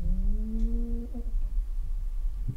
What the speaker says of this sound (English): a very old, a very deaf cat. And she can snore very loudly.